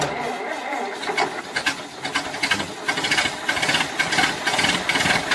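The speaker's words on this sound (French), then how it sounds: "Pour un bruit de moteur plus représentatif de ce que l'on voit." A rattling, revving engine chatters and pulses steadily, growing busier and louder toward the end, with no voices.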